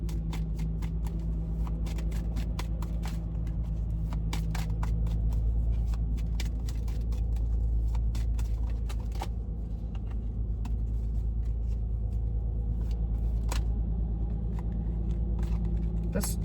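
Tarot cards are shuffled close by in a steady, continuous riffle of soft flicks and snaps that carries on throughout over a low background rumble.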